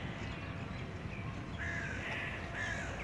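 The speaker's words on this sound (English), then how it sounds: "Look at this bird flying." Crows cawing outdoors in calm surroundings, a few harsh calls rising over steady low background rumble, moderately near.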